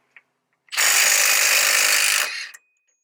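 A Milwaukee stubby impact wrench on setting 3 with a 36mm socket removes a nut in one loud, close burst of rapid hammering that lasts about two seconds and then stops abruptly.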